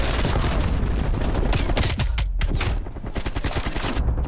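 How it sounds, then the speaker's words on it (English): Frag grenade blast and rapid gunfire in Call of Duty: Black Ops Cold War multiplayer, a loud dense barrage of shots and explosive noise running continuously throughout. "Throwing frag grenade."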